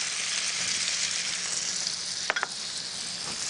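Garlic sizzling in a pan for chicken and squash quesadillas, a steady close hiss of frying with a brief cluster of sharp clicks from a utensil near the end.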